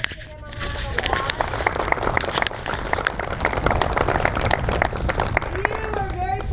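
Audience applause at a Field to Feast dinner at Arizona Western College in Yuma, steady clapping from a seated crowd with chatter and a voice talking over it throughout.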